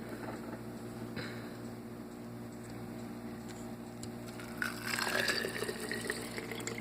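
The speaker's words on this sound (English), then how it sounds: "swish it around a little bit" Water sloshes and swirls inside a jar with wheat berries, quiet at first, then a louder, splashy swishing over a steady background hum.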